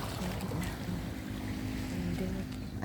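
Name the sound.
wind blowing at a beach resort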